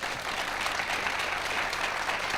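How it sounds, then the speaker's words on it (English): Studio audience applause on a US election debate programme, a dense steady wash of many hands clapping, sustained and even throughout with no voices on top. "that was the easiest applause I've ever earned in my life"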